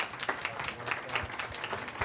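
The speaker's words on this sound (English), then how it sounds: "let's hear a round of applause for" A presentation audience gives a short round of applause, scattered claps rising and falling at a moderate, slightly distant level.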